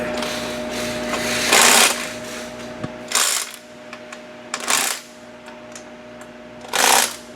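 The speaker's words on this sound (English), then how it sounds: "snug these bolts before we give them a final" Bolts on a 2015 Corvette Stingray oil catch can snugged with a cordless tool, four loud short whirring bursts with quieter pauses and small metallic clicks between, close up.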